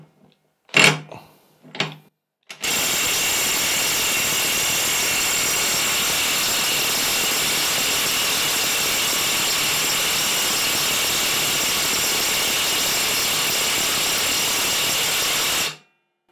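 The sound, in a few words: Parkside PASSK 20 Li cordless impact wrench running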